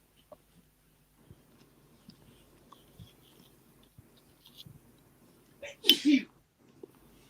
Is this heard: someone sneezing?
yes